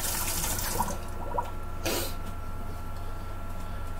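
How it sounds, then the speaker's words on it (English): Hands wash under a running tap in a kitchen sink, a steady close water stream with a brief louder splash in the middle. "Give my hands a quick wash."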